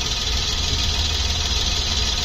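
A Toyota Yaris 1.0 three-cylinder petrol engine idling close by, a steady low thrum with a faint rhythmic knock and a constant airy hiss on top, with no talking.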